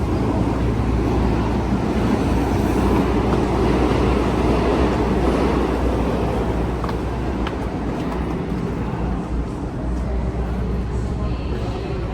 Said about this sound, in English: So this is the 34th Street station, subway station, opened in 1917